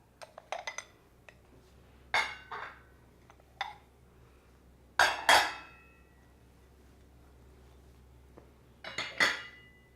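Pumpkin bowls set one by one onto a table laid for a Halloween meal, giving sharp ceramic clinks and knocks in scattered bursts with quiet gaps between them.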